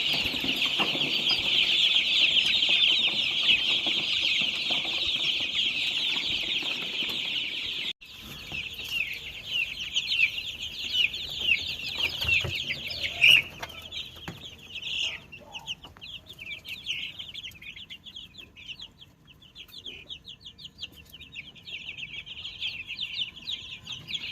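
Chickens cluck and chatter busily close by, with a dense flock sound at first, then scattered individual clucks and calls continuing throughout.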